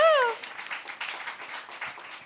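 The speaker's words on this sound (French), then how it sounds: "On vous applaudit." A bar crowd at a live talk event applauds, a soft, scattered patter of hands at moderate distance that follows a brief high-pitched squeal at the very start.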